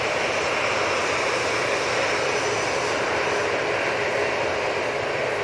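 Airbus A320-200 jet at Manchester Airport, a loud, steady engine roar that fills the whole stretch without letting up, close by and heard alone.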